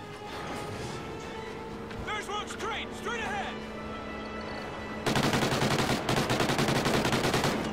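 Rapid automatic gunfire in the Call of Duty: Ghosts campaign mission Severed Ties, a dense steady burst of loud shots filling the latter part after quieter battle noise, with someone talking over the earlier section.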